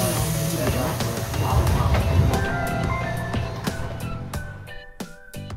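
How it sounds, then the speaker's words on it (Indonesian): A KRL commuter train pulls out of Citayam station, a loud rumbling roll with clattering wheel and rail clicks and some tonal whine, growing sparser toward the end. "KRL pun langsung diberangkatkan lagi dari stasiun Citayam"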